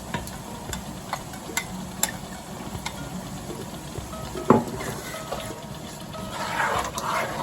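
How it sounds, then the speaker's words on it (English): Fish stew base of tomato and its juice frying in a pot, a constant sizzle broken by scattered spoon taps and one louder clank against the pan, with the bubbling growing busier toward the end. "this thing is frying nicely"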